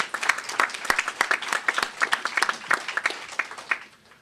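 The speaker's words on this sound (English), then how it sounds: "Can we give all those schools a round of applause?" Audience applause at a mayoral press event on school test results, a scattered round of clapping from a modest crowd, steady for about four seconds and fading at the end, with no talk over it.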